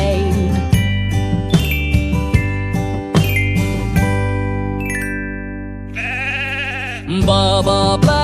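Animated nursery-rhyme sheep bleats, sung and musical, with sustained tonal baas over a bright backing track of chimes and jingles, loud and continuous throughout.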